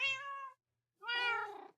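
A Minecraft cat in a video game meowing twice, two clear, tonal mews about a second apart with a short silence between, close and clean with no other sounds.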